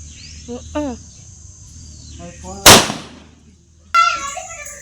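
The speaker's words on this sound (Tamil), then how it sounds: "அப்பா வெடி போட பாருங்க, வீட்டுக்குள்ள ஓடு போட." A single firecracker, set off by a father at home during Diwali, bursts with a sharp, loud crack midway, preceded by people talking and followed by more voices, against a backdrop of chirping insects.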